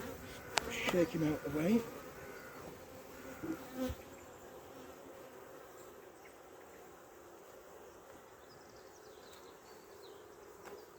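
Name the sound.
wasp buzzing near a beehive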